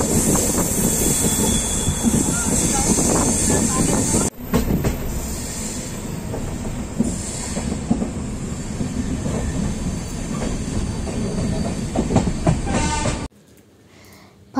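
A train rumbles steadily into New Delhi station across a bridge, with wheel squeal and rail noise. The sound is loud and continuous, changes character partway through, then drops to a quieter hum near the end.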